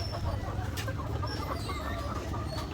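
Chickens on a farm cluck and murmur softly while being fed at dusk, over a steady low rumble of outdoor background noise, with no distinct single call standing out.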